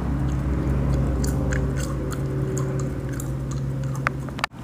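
Someone chews gum close to the microphone, with soft wet, repetitive mouth clicks and squishes over a steady background hum.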